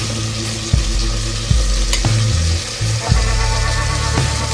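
Spices stirred into hot oil while cooking chole: steady loud sizzling with a spoon scraping and knocking against the pan several times in an irregular rhythm.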